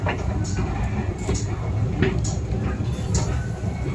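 Steady rumbling of a Hong Kong elevated metro train running on its track, with periodic clunks and rattles throughout, while faint voices murmur in the background.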